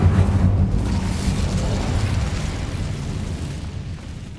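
An Incendio fire spell cast in Hogwarts Legacy produces a dense, roaring burst of flame that holds as a loud rumbling whoosh and slowly eases.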